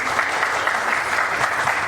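Steady applause from an audience at a corporate rewards and recognition ceremony, dense and continuous for a couple of seconds with no break.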